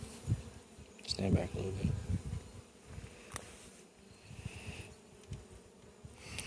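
Bees hum around a beehive outdoors in a low, steady buzz, with a louder swell near the start, while a person speaks briefly over it.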